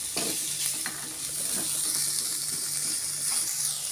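Carrots stir-fried in a hot pan for capcay give a steady, close sizzle with repeated scraping stir strokes throughout, and no one speaks.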